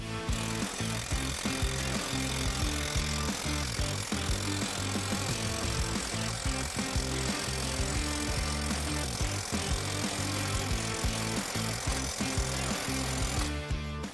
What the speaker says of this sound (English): he's putting on an impact socket to his cordless Milwaukee.